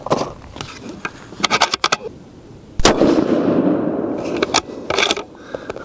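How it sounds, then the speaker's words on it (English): A Remington 700 ADL 30-06 rifle in an MDT XRS chassis fires a Barnes 180 grain TTSX round, producing a single sharp, loud report midway with a rolling decay, surrounded by scattered handling clicks. "next one we are going to shoot is going to be the Barnes 180 grain TTSX"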